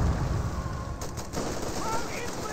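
Rifle fire aimed at sandbags in Company of Heroes crackles faintly in the background, a few soft shots buried beneath continuous commentary.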